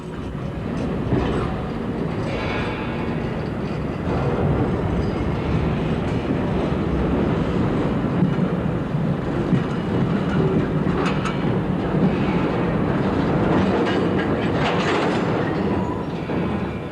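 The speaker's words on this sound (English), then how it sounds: "a beautifully restored carriage, resplendent in new paintwork, is shunted into Bendigo railway workshops" A restored railway carriage in fresh paintwork is shunted into the Bendigo railway workshops, with steady rolling rumble and rhythmic clickety-clack of wheels over rail joints, continuous and fairly close throughout.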